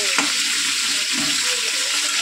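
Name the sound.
potatoes frying in a pan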